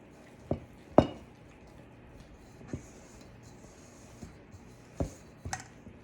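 A spoon works red velvet cake mix cookie dough by hand in a bowl, giving a few sparse, sharp clinks and knocks against the bowl, with soft, quiet shuffling between them.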